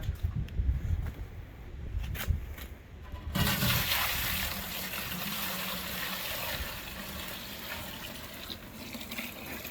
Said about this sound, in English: Alright, I'm gonna pour this in.